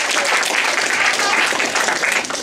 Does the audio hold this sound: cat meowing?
no